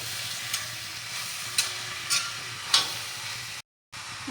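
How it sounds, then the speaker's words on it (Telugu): Ridge gourd pieces stirred into a hot tempering in a pan, with a low steady sizzle and a few distinct spoon scrapes and clinks spaced about half a second apart, then a brief silent gap. "తాలింపు కలిసేటట్టు అంతా కలుపుకుందాం."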